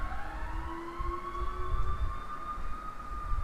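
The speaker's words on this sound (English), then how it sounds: "These fire engines. My goodness." Fire engine sirens wail with long, slowly gliding tones, moderately distant and steady throughout, with a low rumble of traffic beneath and no talking.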